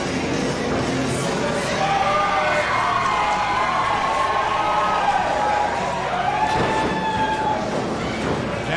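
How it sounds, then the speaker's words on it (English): A wrestling crowd at a Philadelphia show roars and cheers steadily, with whistles and shouts rising over the sustained noise of a packed room. "Yeah, the crowd's just loving the UK Top Rope Champion"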